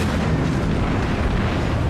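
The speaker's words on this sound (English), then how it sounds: "Destroyer's taking pot shot at us" Destroyer gunfire in the World of Warships naval battle game sounds as a dense, loud, continuous booming roar with no distinct pauses and no voices.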